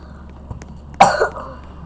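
A single close cough bursts out at full strength and dies away within half a second, following a faint soft click, during an online game session.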